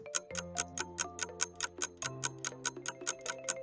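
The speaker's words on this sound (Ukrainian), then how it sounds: "А це звук годинника." A clock ticks quickly and evenly, with crisp, regular ticks over soft, sustained musical tones underneath.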